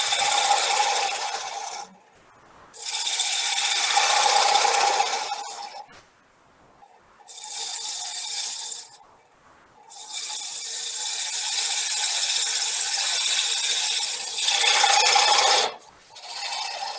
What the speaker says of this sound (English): then you can go ahead and turn the inside. This is basically no different than hollowing a bowl.